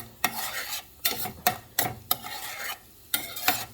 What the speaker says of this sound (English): And just keep moving it around the pan